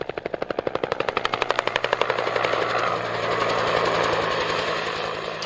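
A helicopter's rapid rotor thumping pulses loudly and steadily, blending into a dense engine roar as it continues overhead.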